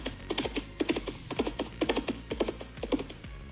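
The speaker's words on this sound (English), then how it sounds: "Horse gallop," A horse gallop effect from the Scratch sound library plays alone as rhythmic clusters of sharp hoof clops in a steady repeating triplet pattern, fairly quiet and dry.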